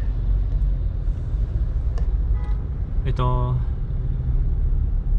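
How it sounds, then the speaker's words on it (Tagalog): Heavy rush-hour road traffic at a busy crossing in Davao, a steady loud rumble of engines with a brief horn toot partway through, under a voice. "Doon talaga ang traffic."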